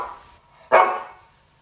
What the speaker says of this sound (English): more recently you can hear him barking on the Report Radio podcast jingle